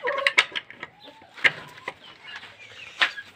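Chickens cluck in short, scattered bursts close by, several birds calling irregularly over a quiet background.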